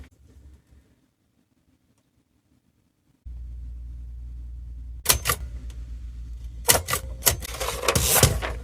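Typebars of a Brother Charger 11 typewriter under restoration snap against the platen in a few sharp, loud strikes close by, after a quiet pause and a low steady hum.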